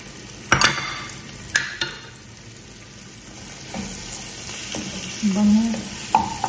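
Chicken sizzling as it fries in a pan for pansit bihon, with sharp clatters of a utensil stirring it at intervals over a steady crackle.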